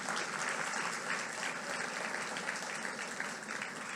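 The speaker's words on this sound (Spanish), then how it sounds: "Denle un aplauso al Señor." Dense, sustained applause from a church congregation, many hands clapping steadily and fairly loudly throughout, with no pauses or clear voices.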